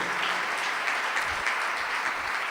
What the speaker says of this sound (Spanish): Damos un aplauso para ellos, que lo oigan bien fuerte.